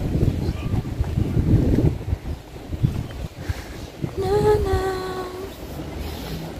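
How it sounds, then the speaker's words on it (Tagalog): Steady wind rumbles and buffets the microphone throughout on a rocky promenade, with a brief tonal horn-like sound rising partway through. "Mahangin."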